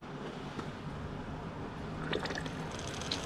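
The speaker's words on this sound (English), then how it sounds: "Just like yesterday, we'll see the water come out." Water drips and trickles out of a Ram 1500 truck, faint and close, with soft irregular splashes.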